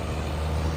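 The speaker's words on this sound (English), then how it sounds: "Right now the cement mixer noise is too bad." A cement mixer truck's engine rumbles steadily at close range on a downtown Lexington street, a low continuous drone with a gritty mechanical churn.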